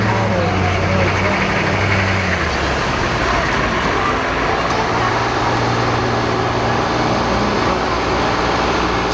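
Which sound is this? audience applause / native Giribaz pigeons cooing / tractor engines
tractor engines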